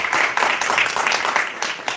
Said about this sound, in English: Let's give a big round of applause to Prabhu